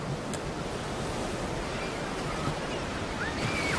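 Large ocean breakers roll onto the shore, making a continuous, dense roar of surf with no pause across the whole stretch.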